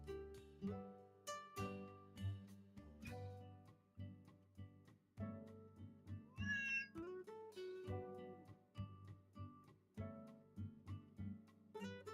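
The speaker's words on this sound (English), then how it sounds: "I currently have a cat on my head." Close, repeated meowing from a pet cat during a quiet home live stream, a series of short and drawn-out calls spread unevenly across the stretch with brief pauses between them.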